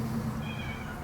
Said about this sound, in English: if you guys hear any cats meowing, it's because there's a hungry outside cat on the porch